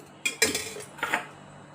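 A kadai pan set down on a stove for heating oil makes a couple of sharp metallic clanks and a brief scrape, close and loud, followed by quiet, with no voices.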